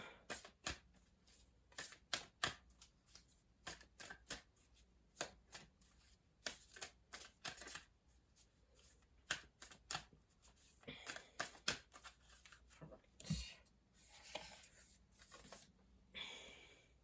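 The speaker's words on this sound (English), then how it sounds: "I'm going to pull a Moonology Oracle card for this row." Moonology Oracle cards shuffled by hand nearby, with quiet irregular flicks and taps that turn into a denser rustling of the deck toward the end, and no one speaking.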